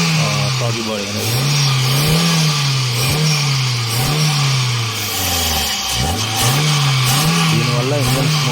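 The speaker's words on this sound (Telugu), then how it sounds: "దీనివల్ల ఇంజన్ స్మూత్నెస్, సౌండ్ స్మూత్గా వస్తుంది" A car engine revs after its throttle body has been cleaned, climbing and falling in pitch several times. The tone is loud and steady, close by, with no pauses between revs.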